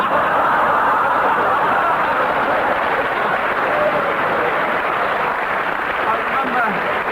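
Studio audience on the comedy panel show I'm Sorry I Haven't A Clue breaking into sustained applause, a dense steady patter of clapping hands that holds for several seconds, with some speech beneath it.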